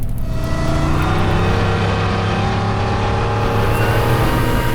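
A modified Vigilante Jeep Grand Wagoneer engine pulls hard under acceleration, a loud, steady, close-up drone with no talking over it.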